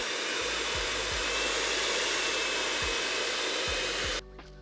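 An electric hand mixer with beaters whips pumpkin pie filling, a loud steady motorized whir with a few low knocks of the beaters against the bowl, then switches off abruptly near the end.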